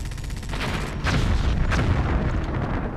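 Explosions in the video game Hostile Waters: Antaeus Rising destroy camp buildings, with loud booming blasts and rumbling debris in rapid succession, several distinct bursts over a continuous heavy roar.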